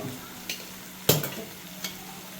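Tomato masala for an egg curry is stirred in a pan, a spoon scraping and clinking in three distinct knocks over a soft, quiet background sizzle.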